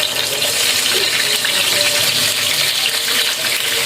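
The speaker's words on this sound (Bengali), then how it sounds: "এখন আমি মাছের তেলের মধ্যে টমেটোটি ভেজে নিব।" Tomato frying in hot fish oil from pabda fish gives a loud, steady hissing sizzle that runs unbroken throughout, close and dense with no talking.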